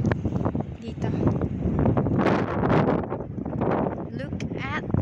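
Strong wind by the water at Bibione, Italy, roars and buffets the microphone while a person talks over it, gusting unevenly throughout.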